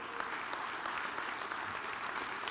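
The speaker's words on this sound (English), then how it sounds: "Let's give them an amazing round of applause." Steady, full audience applause at a township state-of-the-township address, many people clapping continuously and evenly throughout.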